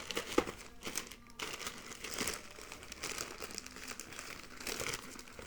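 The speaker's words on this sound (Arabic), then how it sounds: "امسك طيب الكيس وانا شد" A plastic bag crinkles and rustles in quick irregular bursts as headphones are pulled out of it, fairly quiet and close, with no one speaking.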